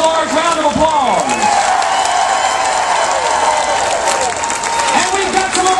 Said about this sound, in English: Let's give all these organizations a large round of applause.